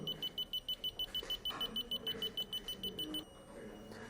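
Rapid electronic beeps from a Crow alarm panel while arming, a steady pulsing train of short high tones repeating for about three seconds, then stopping.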